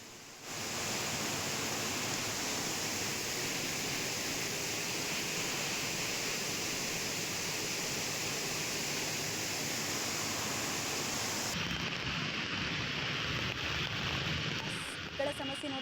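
Heavy rain pours down in Bengaluru near the flooded KR Circle underpass, making a dense, steady hiss that continues unbroken for the whole stretch.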